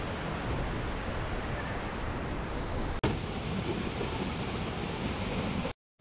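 Roaring waterfall water at Jharkhand falls, a loud, steady broadband rush of falling water with no breaks, heard up close.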